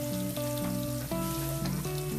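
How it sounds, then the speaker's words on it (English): Herring sizzling in a hot pan while cooking a shrimp and herring pasta alfredo; a steady, close frying hiss runs through the whole short stretch without any talk. "get your herring in there, frying"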